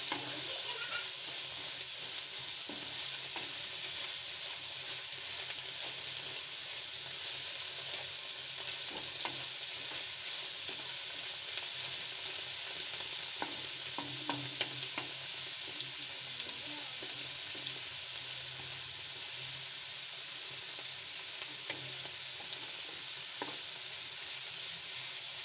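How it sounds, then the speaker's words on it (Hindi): Bottle gourd halwa roasts in a pan with a soft, continuous sizzle as it is stirred, occasional scraping clicks of the spoon breaking through a steady low hiss, close and fairly quiet. "अब इसकी भुनाई शुरू हो गई है।"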